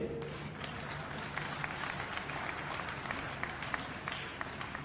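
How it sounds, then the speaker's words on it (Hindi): Sustained applause from a crowd at a political rally in Haryana, a dense steady wash of clapping that holds for several seconds with scattered sharper claps standing out. "तालियों की गड़गड़ाहट"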